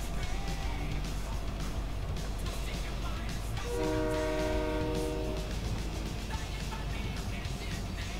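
A tour train in the video game Fortnite sounds a tonal horn blast of about two seconds, midway through a busy wash of in-game noise and rumble.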